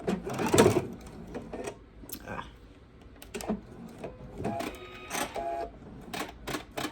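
A sewing machine stitches a straight seam across a fabric bowl cozy in uneven bursts of whirring and clicking, close and fairly quiet, with a louder clunk near the start.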